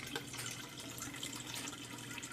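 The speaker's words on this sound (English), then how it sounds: "There's the siphon starting." Water flows steadily from an aquarium siphon as it starts up in an aquarium-based aquaponic system, a faint, continuous trickling wash.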